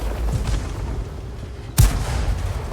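A Type 64 tank fires a shell in a tank video game: one sharp, heavy boom bursts out loud and near against steady engine and battle rumble, then decays.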